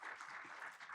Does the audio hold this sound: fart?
no